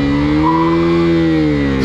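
A Suzuki Raider Pro motorcycle with a slipper clutch revs during a ride, a loud, close engine drone rising and sustaining in pitch before easing off, with no talking.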